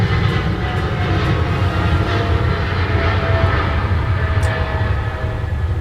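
Airplanes flying overhead, a loud, continuous engine roar that holds steady throughout, with no talk.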